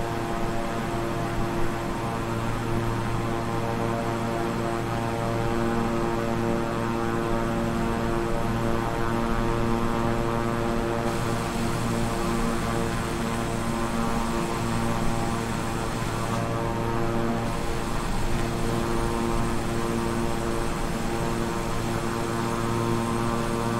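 The steady, droning hum of twin turboprop engines on a King Air 350i in Microsoft Flight Simulator, a continuous even engine tone with a strong low throb and no voices.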